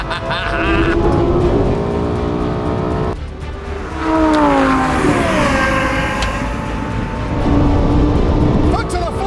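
A Lexus LFA and a Lamborghini Huracan STO accelerate hard in a drag and roll race, engines screaming upward through rising revs with sharp gear-change breaks, loud and close, while people talk over the noise.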